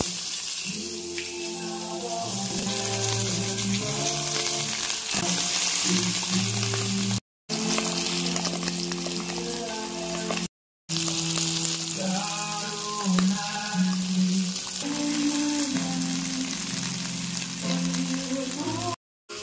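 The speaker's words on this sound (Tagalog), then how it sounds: "Kumuha ko ng isda. Yan ang prepituhin ko." Fish frying in a pan at home, a steady close sizzle and crackle lasting throughout, with music playing softly underneath and two brief breaks in the sound.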